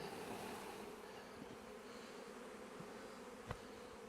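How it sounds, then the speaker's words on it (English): Steady buzzing of many honey bees close by at a hive, a continuous hum with one brief tap near the end and no voices. "Get some nurse bees."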